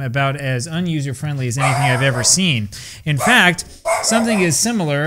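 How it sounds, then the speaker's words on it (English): A dog barks and yips indoors in short bursts, mixed under and between a man's continuous close-up talking. "Sorry about the dog."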